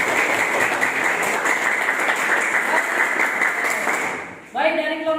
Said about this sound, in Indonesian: boleh dikasih tepuk tangan dulu.